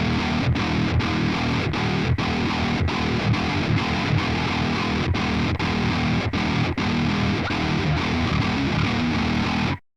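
Heavily distorted metalcore electric guitar riff played alone, a dense, loud wall of chugging tone broken by rhythmic short palm-muted stops, ending abruptly.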